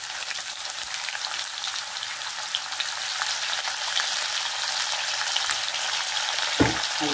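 Potatoes frying in oil for an egg omelet curry, giving a steady, close hiss of sizzling with small pops and a brief stir near the end.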